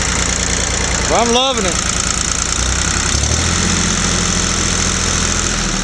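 A Ford 1710 tractor engine runs at a steady idle with a continuous low rumble throughout, loud and close, while a voice speaks briefly over it.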